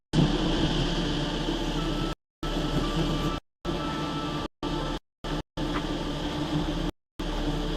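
Wild bees swarm during a cliff-side honey harvest, making a dense, steady droning buzz that sounds close and fairly loud, broken by several short silent gaps.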